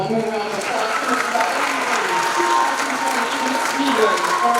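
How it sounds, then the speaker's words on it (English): Audience applause honoring a departing Miss Blueberry titleholder at a county blueberry festival pageant, a steady sustained clatter of many hands clapping, fairly loud and even throughout, with no one speaking over it. "How about one more round of applause for Miss"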